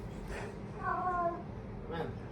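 A pet cat meows once near the middle, a short harmonic call set against a room murmur, with faint voices around it.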